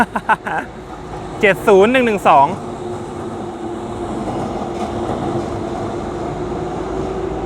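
A single Thai diesel locomotive, number 70112, rumbles steadily past Muak Lek station at close range, droning with a low engine hum after a brief burst of talking and a warbling horn-like tone at the start.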